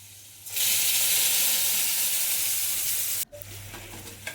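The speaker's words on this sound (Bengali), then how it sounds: "হলুদ গুঁড়ো লঙ্কা গুঁড়ো জিরের গুঁড়ো ধনে গুঁড়ো দিয়ে একটা পেস্ট বানিয়ে রেখেছি সেটাই দিয়ে দিচ্ছি" Spice paste of turmeric, chilli, cumin and coriander powders hits hot oil in a pan for a potato and pointed gourd curry, erupting into a loud, steady sizzle that drops sharply near the end, leaving a softer hiss.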